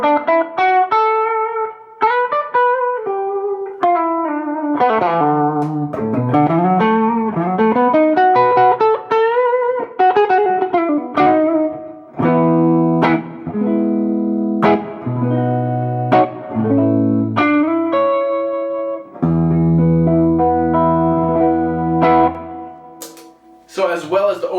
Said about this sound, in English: if you pick lightly with the overdrive channel on, you'll hear that it's not going to break up as much